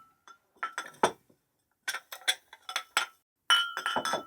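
Dishes and glassware clink as a table is set, with scattered light taps coming in three short clusters separated by brief silences, crisp and close with nothing else heard.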